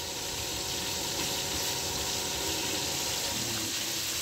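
Finely chopped onions frying in a pan for Kashmiri chicken masala, a steady, even sizzle with a soft hiss, continuous and fairly quiet throughout.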